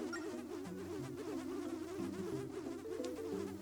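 Bees buzzing in the Nintendo DS game The Legend of Zelda: Spirit Tracks: a steady, close, wavering drone with stepped shifts in pitch, continuous and alone, with no talk.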